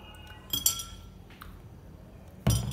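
A spoon clinks against a glass of tart sea buckthorn juice, a few sharp ringing taps spread over a couple of seconds, close and fairly quiet.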